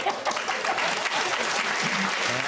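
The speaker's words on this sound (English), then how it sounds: "With that, round of applause." A studio audience claps at a comedy panel show, a dense, even burst of applause filling the whole short stretch.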